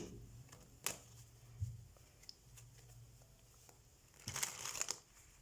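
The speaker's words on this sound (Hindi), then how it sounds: "तो सबसे पहले हम कार्ड शफल कर लेते हैं कैंसर साइन" Tarot cards handled and shuffled up close, soft papery riffles and crinkles in scattered bursts with a louder flurry near the end.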